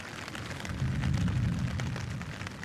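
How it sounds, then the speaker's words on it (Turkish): A low rumble of thunder rolls for a few seconds, swelling slightly in the middle over a faint patter of rain, heard from inside a tent while camping. "Gök gürültüsü. arttı yine."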